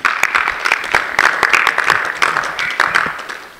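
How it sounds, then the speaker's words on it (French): An audience at a Christian diaspora gathering bursts into applause after a speech: a brief, loud, dense patter of many hands clapping close by, without talk. "Applaudissons, applaudissons."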